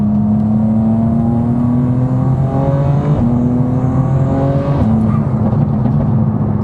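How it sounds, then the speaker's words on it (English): A raspy inline-six engine in a 2026 BMW M4/M3 revs hard and close, rising in pitch through repeated gear pulls, with no voices. "It just sounds like a raspy inline six"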